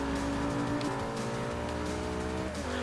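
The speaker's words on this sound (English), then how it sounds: "that Reventon just takes off" Lamborghini Reventon accelerating hard in Forza Motorsport 3 on Xbox 360, a loud sustained engine roar climbing through the revs with a quick shift, alone without talk.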